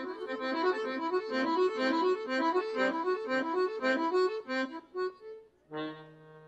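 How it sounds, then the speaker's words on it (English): A button accordion plays a quick, bouncy folk tune with bright reedy chords, then holds a few sustained notes and ends on a final swelling chord, loud and alone. "it also has reeds that whenever you press the buttons, it makes sounds like this."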